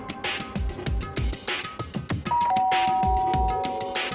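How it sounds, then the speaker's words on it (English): A doorbell chimes once with a clear ding-dong, ringing out over soft, rhythmic background music, in a fan dub of the game Danganronpa: Trigger Happy Havoc. "and pressed the doorbell"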